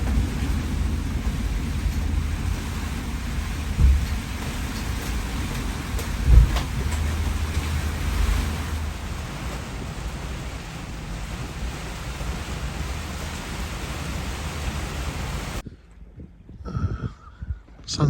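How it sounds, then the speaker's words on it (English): Heavy rain from a passing squall roars steadily for about fifteen seconds, with a couple of louder gusts or rumbles along the way, then drops away suddenly to near quiet with faint sounds at the end. "With heavy rain."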